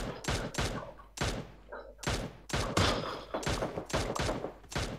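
Gunfire in the mobile battle-royale game PUBG Mobile, a series of sharp, punchy shots spaced irregularly about a second apart, loud and close with brief gaps between.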